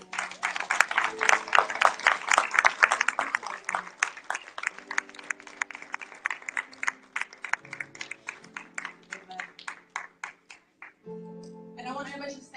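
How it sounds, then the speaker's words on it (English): Church congregation applauding the pastors, scattered claps building into a lively round that gradually thins to sparse claps, then gives way to a voice and music at the end. "Let's give them a round of applause."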